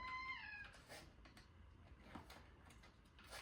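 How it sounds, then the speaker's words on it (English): A cat gives a short, faint meow at the start, its tone sliding slightly upward, against a quiet indoor background with light handling noises. "I do have a cat here, and she will not be harmed in the making of this video."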